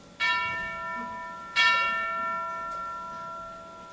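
Two loud bell strokes from a clock tower toll the hour, about 1.4 seconds apart, each ringing out with long sustained overtones that slowly decay, with no talking.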